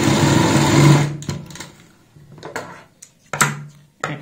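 Nearby, a sewing machine stitches a girl's designer top in a loud, brief whirring burst that stops after about a second, followed by scattered clicks and handling knocks.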